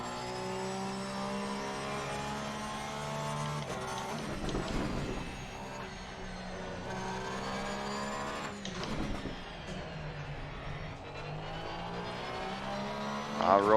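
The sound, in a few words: Porsche 911 race car driving at Nürburgring, video game Assetto Corsa Competizione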